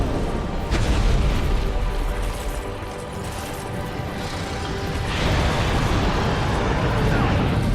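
Fire attack in Dark Souls 2 roaring as a sustained, loud blast that swells near the start and surges again toward the end, with crackling and rumbling mixed under faint talk.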